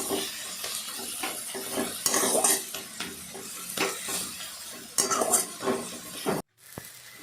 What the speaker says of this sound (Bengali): এবার সেটাকে ভালো করে নাড়াচাড়া করলাম